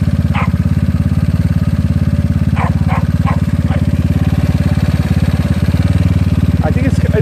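A GY6 scooter engine fitted with a 30mm OKO PWK carburetor idles steadily and loudly after tuning, a smooth even rumble with a few faint sharp background noises layered over it.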